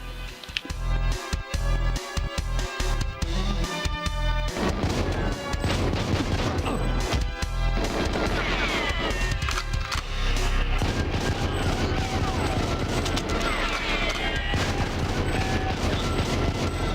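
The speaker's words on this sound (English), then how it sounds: "the reason I'm shooting crates is sometimes you can get bullets and ammunition from them" Rapid bursts of gunfire in the GoldenEye video game as crates are shot, loud and continuous with crashing, splintering impacts mixed in.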